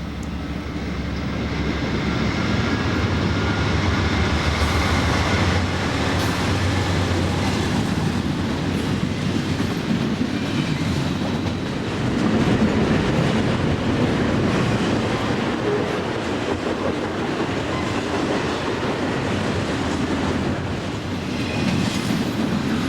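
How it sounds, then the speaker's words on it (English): Daily double-stack container freight train 23Z from Harrisburg, Pennsylvania, rolls past near Lewistown station: a loud, steady rumble of wheels and cars with faint rail clatter, lasting throughout. "Train 23Z is a daily double-stack container from Harrisburg, Pennsylvania"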